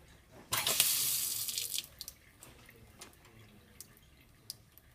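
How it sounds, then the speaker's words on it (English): A small stream of tap water splashes into a sink for about a second and a half, then trickles off into scattered faint drips. "I can create a very small stream of water."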